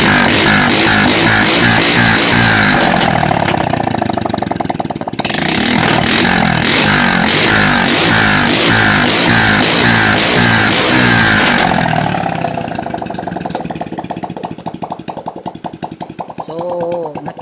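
A carbureted Honda XRM 125 motorcycle with a smoking exhaust runs loud and close, its single-cylinder engine revving hard in sustained bursts before easing toward a rougher idle, with a voice speaking over it.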